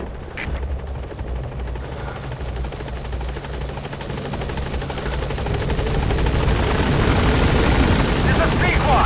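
Pequod, the helicopter in Metal Gear Solid V: The Phantom Pain, arriving at a landing zone, its rotor thumping in a fast steady beat and growing louder, with a radio voice over it.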